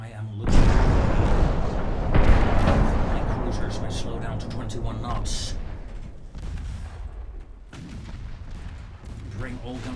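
Warship guns booming in the naval battle game Ultimate Admiral Dreadnoughts: two heavy salvos early on, then a continuing rumble of distant gunfire under a voice.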